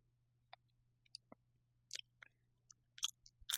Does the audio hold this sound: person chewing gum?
yes